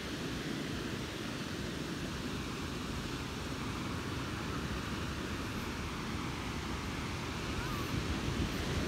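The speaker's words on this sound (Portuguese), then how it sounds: "Já conseguem ouvir o som do mar?" Low-tide sea waves wash steadily onto a sandy beach at Praia Grande, a continuous broadband surf roar with gentle swells and no distinct breaking crashes.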